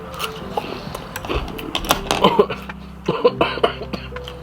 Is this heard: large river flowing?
no